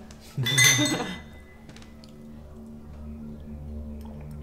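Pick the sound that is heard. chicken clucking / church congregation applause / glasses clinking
glasses clinking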